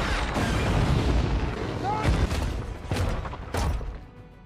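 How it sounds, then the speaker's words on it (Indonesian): Oil tanker trucks exploding in a chain-reaction crash in a film, a loud, rumbling blast with deep booming bursts and sharp cracks over a heavy low roar. "ledakan besar pun terjadi."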